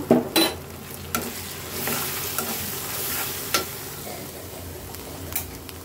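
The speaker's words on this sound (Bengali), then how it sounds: "এখন হচ্ছে আদাটা ভাজা ভাজা হয়ে গেছে, আমি একটু মশলা দিয়ে দিব।" Ginger and spices frying in a pan, with a steady soft sizzle and occasional sharp scrapes and knocks of a spatula stirring the mix, close and moderately loud, with no talk.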